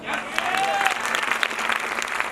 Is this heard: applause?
yes